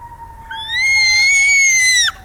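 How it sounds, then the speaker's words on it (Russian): A toy siren gives a single tone that rises and then holds steady for about a second and a half before cutting off sharply, over a faint low hum. "Вот так сирена делает, да?"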